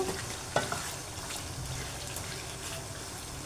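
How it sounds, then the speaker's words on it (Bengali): Mutton being stirred in a pan with ginger, garlic and green chilli paste for kabuli pulao, a steady soft sizzle with a couple of early spoon scrapes and clinks, no talking. "মাটনটার সাথে এখন মশলাগুলো মিশিয়ে দেব"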